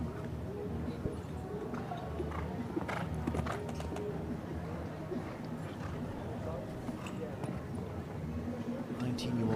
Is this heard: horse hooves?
yes